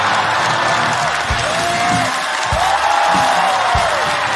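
Audience at a Chinese stand-up comedy show applauds and cheers as the comedian He Guangzhi is introduced, a steady wash of clapping with some whoops and a few low thumps throughout.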